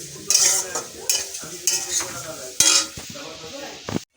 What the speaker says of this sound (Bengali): এখানে মেয়ের জন্য ওটস বসিয়েছি, ভেজে নিচ্ছি আর কি